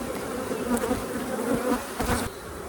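Honey bees from a feral hive buzz steadily and densely at close range while the colony is split into boxes, a continuous swarm-like drone with a few brief knocks near the end.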